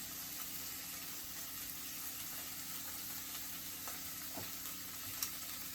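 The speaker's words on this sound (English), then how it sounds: "I have the egg, and it's cooking" Egg frying in a pan for Hawaiian loco moco, a steady close hiss of sizzling oil with scattered small crackles and pops, continuous and fairly quiet, no talking.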